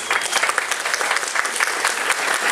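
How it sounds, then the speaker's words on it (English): A game-show studio audience applauds steadily, dense clapping filling the space from start to finish at a consistent, fairly loud level. "round of applause now please."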